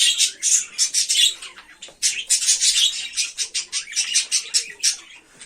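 Budgerigars in a breeding setup chirp and chatter continuously nearby, a dense stream of bright, overlapping tweets and warbles rising and falling with no one talking.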